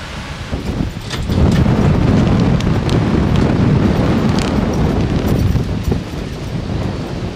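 Continuous wind at a yacht harbour in Zutphen, Netherlands, roars across the microphone, loud and blustery, with rushing noise that swells after the first second and stays steady.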